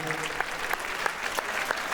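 An audience applauds during the Saint Louis festival in Sète, a dense, steady patter of many hands with a few sharper claps standing out, fairly close, with a faint murmur of voices beneath.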